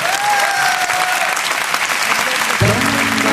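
Audience applause fills a concert hall at the Olympia in Paris during an anniversary broadcast show, a loud, dense, steady clapping from a large crowd sustained throughout, with a musical tone entering near the end.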